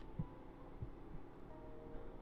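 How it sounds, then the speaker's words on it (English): Heartbeat from the Hakuoki: Kyoto Winds video game, three faint low thumps spaced about half a second apart over a quiet steady hum, with no talking. "Through his thick chest, I could hear his heart beating steadily, gently"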